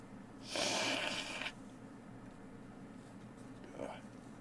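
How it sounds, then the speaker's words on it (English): A person blows their nose in one loud, breathy burst lasting about a second, followed by a fainter sniff a few seconds later, close up in a quiet room. "I just need to blow my nose."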